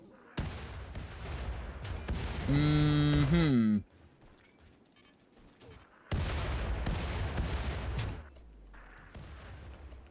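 Auto artillery and mechanoids trading fire in the RimWorld video game: loud bursts of booming impacts and rattling shots in two dense clusters, with a brief sustained tonal whine between them.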